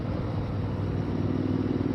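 A motorcycle rides along Coal Creek Canyon road, its engine a steady, low, throbbing drone at an easy cruising pace, loud and close with a rumble of wind throughout.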